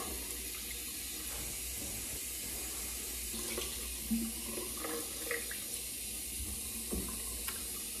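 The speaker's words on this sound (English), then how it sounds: "Now I'm gonna steam up with near hot water." Near-hot tap water runs into a bathroom sink in Waltham, Massachusetts before a shave, a steady close splash with a few brief clinks and bumps over the stream.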